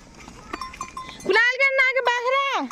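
A goat bleats loudly and close by, one drawn-out wavering call followed by a second, on a jungle path where goats are grazed, after faint background voices.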